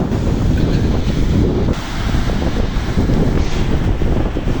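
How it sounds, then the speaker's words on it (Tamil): Heavy sea surf roars continuously, with waves crashing amid strong wind buffeting the microphone. "பாருங்கள் கடல் அலையே பாருங்கள் சரியான அடியாக"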